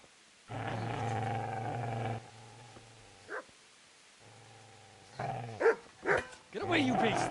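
In a Kingdom Come: Deliverance game scene, a dog lets out long, harsh growling barks, then shorter snarls and yaps, while someone shouts at it nearby.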